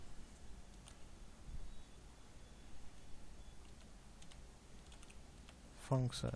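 Sparse, faint keystrokes sound as code is typed on a computer keyboard, scattered over a soft background hiss, with a louder clatter near the end.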